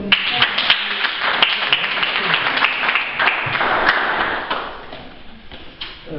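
Applause from a church audience, a dense wash of many hands clapping steadily throughout, loud and close, fading slightly toward the end.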